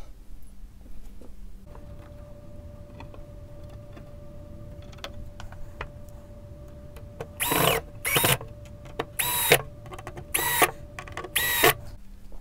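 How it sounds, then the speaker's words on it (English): Screws go into a wooden raised garden bed kit: a steady mechanical hum runs under faint ticks, then five loud, short bursts of a power driver whir in quick succession near the end. "Square up the sides and put four screws in place."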